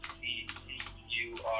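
Quick key presses on a computer keyboard, a short burst of several taps close up, with faint background noise.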